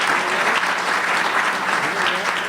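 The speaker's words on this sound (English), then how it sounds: "we should give them a round of applause" Audience applause after a talk on wholesome food, a steady dense wash of many hands clapping at once, even and sustained throughout with no voices on top.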